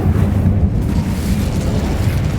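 Incendio fire spell cast in Hogwarts Legacy, a loud, dense burst of fiery whooshing that stays strong for about two seconds.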